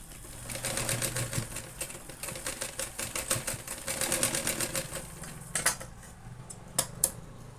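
Sewing machine stitching the sides of a small handbag, a quiet steady mechanical clatter of needle strokes running for several seconds before slowing to a few scattered clicks.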